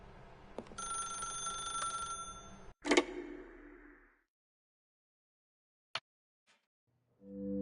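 An old-fashioned telephone bell rings in The Stanley Parable: a steady, bright metallic ring for a few seconds, then a sharp knock. The ring fades to near silence, broken by a couple of faint clicks and a low hum.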